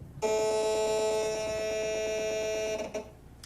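A loud, steady electronic hum and buzz from an RF meter sonifying a cell phone's emissions, with a fast fluttering pulse underneath, holding for about three seconds before cutting off.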